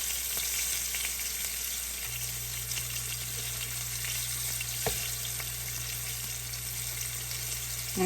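Beef cube steak sears steadily in a hot pan, a continuous broadband sizzle with a low hum joining partway through and a brief knock near the middle, no talking.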